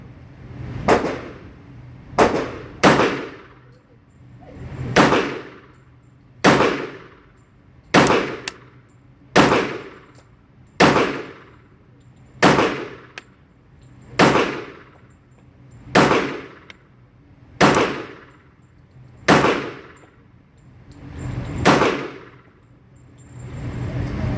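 Bul Armory SAS II Tac Commander stainless steel .45 ACP pistol fired at a range, thirteen loud, sharp single shots at a steady pace, each with a ringing decay, no talking.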